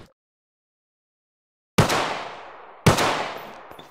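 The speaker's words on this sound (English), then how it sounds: "People are shooting me." Two loud gunshot blasts from a firearm in the online survival game Atlas, each a sharp crack with a long decaying echo, spaced about a second apart after near silence.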